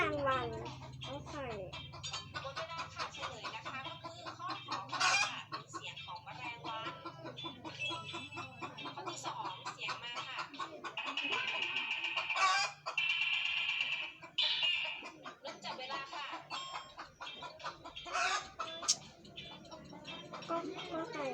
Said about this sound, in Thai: ก็ไก่